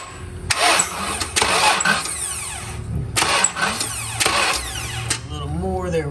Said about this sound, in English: tap it to it to power and spin it over.